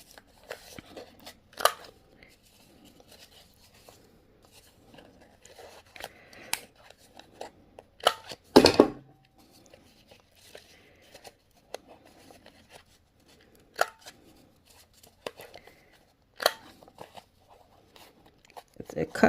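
Small scissors snip down the pages of a tiny folded paper notebook, quick crisp cuts scattered through a quiet room with soft paper handling between them.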